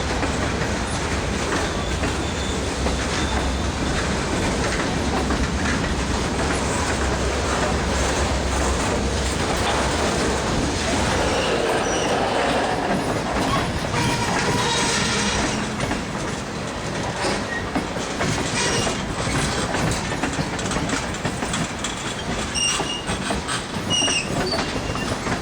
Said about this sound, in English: The Oakland local prepares to depart Richmond for Oakland.